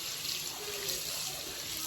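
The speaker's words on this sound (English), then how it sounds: "Why don't we rinse your hands off?" A water tap runs steadily into a sink as soapy hands are rinsed beneath it, a continuous close splashing hiss with no break.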